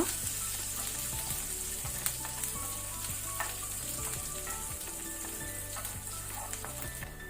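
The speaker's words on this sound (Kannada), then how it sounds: "ಗಾರ್ಲಿಕ್ ಬೆಳ್ಳುಳ್ಳಿ ಕಲರ್ ಚೇಂಜ್ ಆಗೋ ತನಕ ನಾವು ಲೋ ಫ್ಲೇಮ್ ಅಲ್ಲಿ ಫ್ರೈ ಮಾಡ್ಕೊಳ್ಳುವ." Garlic and green chillies frying on a low flame for paneer butter masala, a steady close hiss of oil with scattered light pops and the occasional stir, and no talking.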